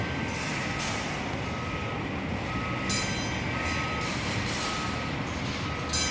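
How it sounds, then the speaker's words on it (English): A monorail train runs past with a loud, continuous rumble and faint whining tones that persist throughout, heard close by without a break. "Absolutely gorgeous monorail."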